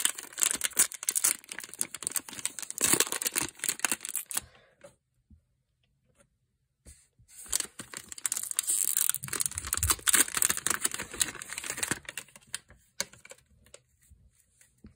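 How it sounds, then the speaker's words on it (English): A Topps 2024 season baseball card pack being opened: close crinkling and tearing of the wrapper in crisp bursts, a short silent pause midway, then more rustling and crackling. "now we're gonna open the Topps 2024 season baseball"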